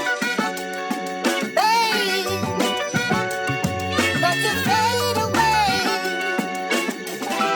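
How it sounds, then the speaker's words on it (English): A chopped music sample plays on an MPC with a kill-EQ preset that removes the kick drum, leaving dense melodic layers with gliding tones and thinned low end. "go back to that kill EQ and put it on the preset no kick drum"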